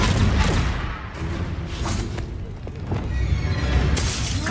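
Spells are cast in the video game Hogwarts Legacy: loud magical bursts, booms and shattering hits follow one another quickly across a few seconds, over a constant layer of game noise.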